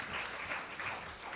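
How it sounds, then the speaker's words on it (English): An audience claps together, a dense burst of applause that holds steady throughout without any talking. "If we can just clap once again"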